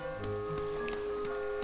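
Steady rain falls in the farming life-sim game My Time at Portia, a soft, even patter spread across the whole moment, with sustained game music tones running beneath it.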